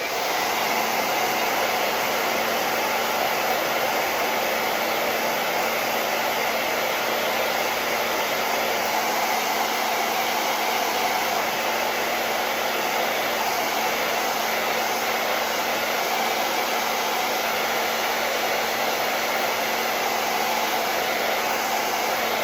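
A hair dryer blows steadily on a craft piece, a loud, unbroken whoosh with a constant motor whine running the full length, no voices.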